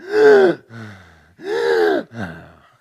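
A voice imitates heavy, labored breathing at high altitude above 18,000 feet on a mountain climb: two loud, gasping inhales, each followed by a softer exhale, in a close, steady rhythm.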